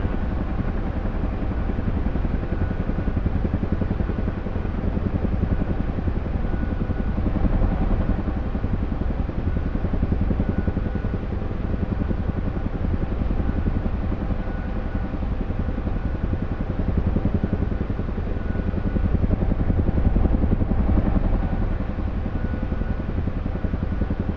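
A helicopter in the DCS flight simulator flies in a steady, loud rotor-and-turbine drone that holds evenly for the whole stretch, with a slight swell near the end and no voices.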